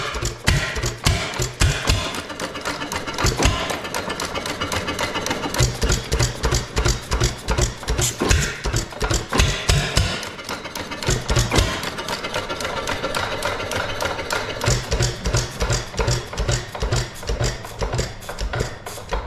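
A 1920s Monitor pump jack engine runs with a steady, loud rapid chugging beat that thins into sparser thumps as it coasts between firings, with no talking.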